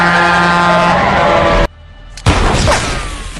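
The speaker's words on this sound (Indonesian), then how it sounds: "Tripper segera tancap gas untuk menghindari Oliver" A car accelerates hard during a film chase, a loud roaring engine that cuts abruptly to near quiet, then a sudden booming impact and renewed rushing engine and crash noise.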